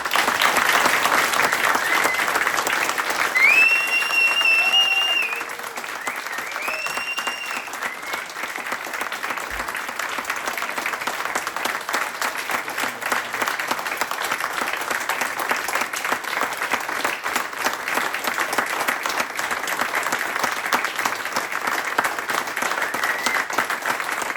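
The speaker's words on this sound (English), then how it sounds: "we'd do a round of applause and raise the roof" A crowd applauding steadily and at length, dense clapping with a few whistles early on.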